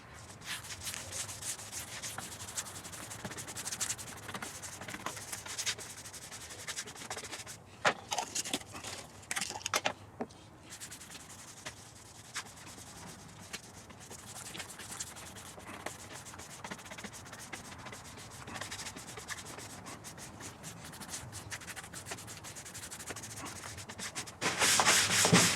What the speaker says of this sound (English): I rubbed off the excess and it really made the grain pop out.